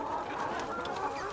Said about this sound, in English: Happy chickens. And you can hear how happy they are.